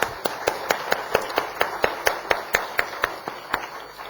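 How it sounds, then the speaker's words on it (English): Audience clapping for child performers at a young authors' book launch event, heard as a steady series of sharp, evenly spaced claps over a dense, noisy crowd bed, moderately loud throughout. "Let's hear a round of applause again for these wonderful kids."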